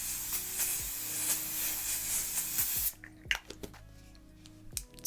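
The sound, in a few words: Kryolan makeup fixing spray being sprayed on face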